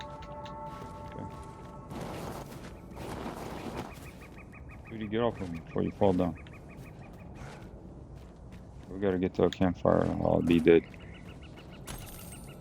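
Chickens cluck in short, rapid bursts in Dragon's Dogma 2, with two clusters of clucking standing out over a quiet ambient bed while a person talks intermittently.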